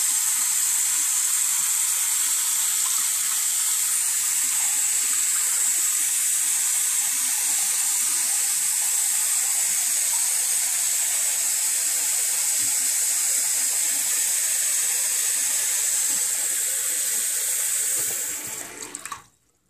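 A tap runs steadily into a sink while a face is washed, a loud, even hiss of water lasting nearly twenty seconds before cutting off abruptly at the end.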